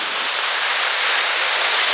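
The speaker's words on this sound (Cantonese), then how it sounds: "嚟到呢度已經聽到啲瀑布聲啦" A waterfall in southeast Iceland roars as a dense, steady rush of falling water, loud and unbroken, with no voices over it.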